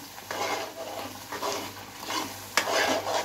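Chicken liver masala fries in a pan while a spatula stirs and scrapes it in repeated rough strokes, a steady close sizzle running beneath, with one sharper knock near the end.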